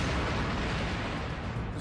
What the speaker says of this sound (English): Starting with just 4 millijoules, we worked our way up to 75, which finally ignited the tank.